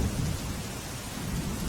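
Heavy monsoon rain pours steadily in Gujarat with a deep rolling rumble of thunder underneath, a dense, continuous wash of sound with no voices.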